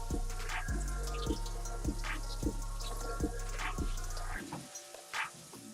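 Running water rinses fresh vegetables for juicing, a steady splashing stream close by that cuts off near the end, leaving a few faint drips and knocks.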